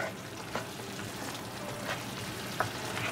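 Garam masala and dry cilantro are stirred into a potato mixture in a pan, producing a faint, even frying hiss with a few light scrapes.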